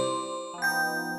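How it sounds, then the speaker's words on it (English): A bell ringing with bright, sustained tones, struck again partway through so a fresh ring layers over the fading one. "Bell. Bell. Bell."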